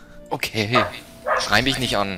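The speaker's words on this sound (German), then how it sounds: "Da bellt was. Achso, das war ein Hund." A dog barks in short, yappy bursts during a Guild Wars gaming session, the barks overlapping with a person talking close by.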